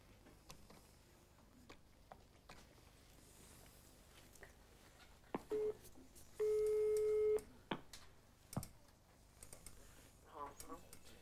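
A telephone call being dialed, with faint clicks and ticks, then a steady tone holding for about a second, amid a quiet room with occasional thumps.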